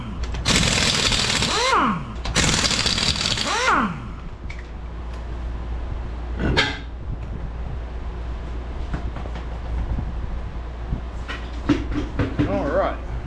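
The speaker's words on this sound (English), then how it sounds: "battery on my impact gun was dead. So we're going to be using air power." Air-powered impact gun spinning bolts off a 1992 Toyota during a lowering job, with two loud, dense rattling bursts near the start, then a quieter sharp burst mid-clip and scattered clanks.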